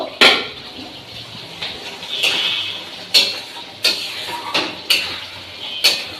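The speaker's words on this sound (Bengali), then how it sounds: "আর এই যে ধনে পাতাটা বাটবো" Fresh coriander leaves are ground into a paste in a home kitchen, giving a run of sharp, rhythmic knocking and scraping strokes about a second apart, fairly close and with no voices.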